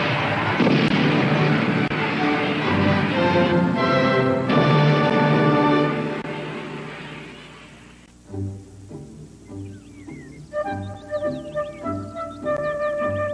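Fireworks rockets burst in the sky at a royal celebration: a loud, dense barrage of booms and crackles for about eight seconds, thinning into scattered softer pops mixed with bright musical tones.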